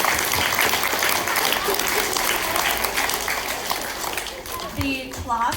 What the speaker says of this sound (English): So please give Sebastian a round of applause.